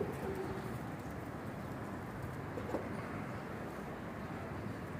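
Pigeons from a breeding pair coo softly and intermittently against a steady background hum, with no voices present.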